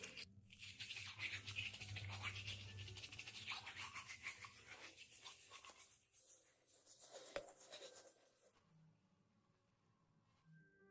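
A reborn doll's teeth brushed with a toothbrush, a close, rapid scrubbing rhythm that carries on for several seconds, then fades into quieter handling sounds, with no voice.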